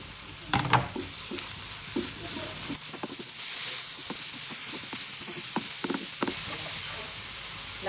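Chopped onion for a low-carb homemade tomato sauce sizzles in a hot pan, a continuous hiss broken by scattered scraping stirs and clatters, close and without talk.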